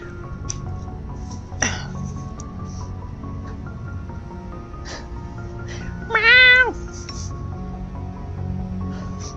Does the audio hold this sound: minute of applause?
no